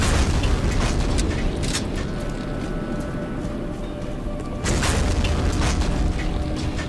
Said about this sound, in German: Granate!